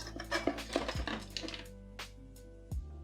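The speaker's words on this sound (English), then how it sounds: "I'm going to grab a whisk out and I'm going to try fold it with my whisk" A whisk folding a mixture in a bowl during an Australia Day cook-up, giving scattered clinks and scrapes of metal against the bowl in irregular strokes, close and fairly quiet.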